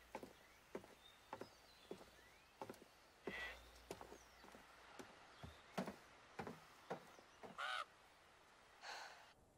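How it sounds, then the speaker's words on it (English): A crow caws in the video game The Quarry, a couple of short raspy calls near the end over a steady run of crisp footstep-like knocks and thuds, with no talking. "Oh, there's a crow up there"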